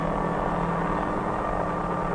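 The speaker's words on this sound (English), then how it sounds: "And when the stick is moved in the direction the pilot wants to travel, the helicopter is on its way." A helicopter in flight gives off a steady, close droning roar of engine and rotor, unbroken and even in loudness, with no voices.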